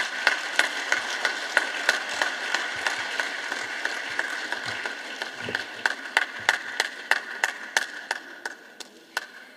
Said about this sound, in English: The clap should be bigger.